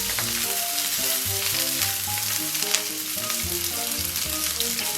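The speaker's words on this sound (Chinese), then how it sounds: "油温8成热，咱们把姜和葱给它下里边" Ginger and scallions fry in hot oil in a wok with a continuous, even sizzle that holds steady throughout, while music plays underneath.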